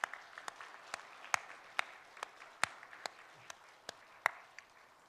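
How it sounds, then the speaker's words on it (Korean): A church congregation at a Sunday service claps, with distinct, scattered hand claps popping out over a faint, soft background, the sound sparse and uneven rather than a full ovation. "우리 서로에게 크게 박수로 격려하고 축복하도록 하겠습니다"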